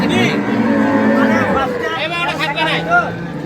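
Dairy cow with her calf at Ambari cattle market, moos rising through a busy background of crowd chatter and someone talking nearby.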